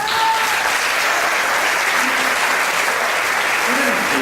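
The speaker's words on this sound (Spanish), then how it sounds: "Un aplauso." An audience at a yoga association book presentation claps loudly and steadily, a dense wash of applause from a nearby crowd that carries on unbroken from start to finish.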